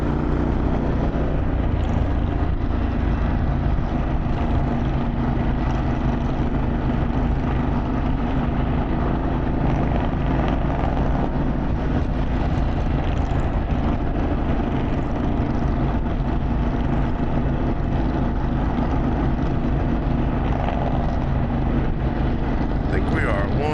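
An Indian Challenger motorcycle fitted with a Vance Hines exhaust rides with a group of several bikes near Bear Mountain, giving a loud, continuous engine drone mixed with rushing wind throughout.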